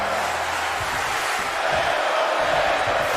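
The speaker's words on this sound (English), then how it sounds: "the crowd immediately behind the hometown favorite" A dense roar from a virtual arena crowd in the WWE 2K22 wrestling game fills the space, rising steadily for a Hell in a Cell match between the Undertaker and Abyss, with no clear breaks.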